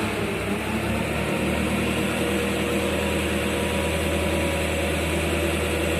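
Japanese two-ton forklift engine running close by as it lifts, giving a loud, steady drone with no breaks.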